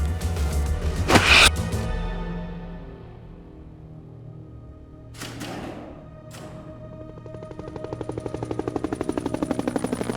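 A loud volley of gunfire erupts in a Metal Gear Solid 4 cutscene, a dense burst of shots followed by a quieter lull, a second shorter burst, then a rapid steady mechanical rattle building toward the end.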